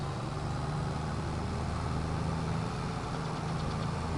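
A tractor engine idles in Farming Simulator 22, a steady low mechanical hum that holds constant throughout, fairly quiet with no talk over it.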